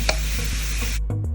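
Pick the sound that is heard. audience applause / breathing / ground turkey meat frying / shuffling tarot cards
ground turkey meat frying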